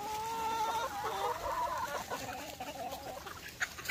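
Chickens in a coop during extreme cold cluck and murmur steadily at close range, a busy overlapping flock chatter with no one talking over it.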